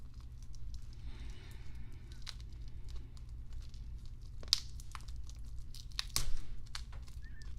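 Protective plastic film is peeled off a Squale Tropic 1545 30 Atmos dive watch, faint crinkling and tearing with a couple of sharp crackles near the end, over a low steady hum.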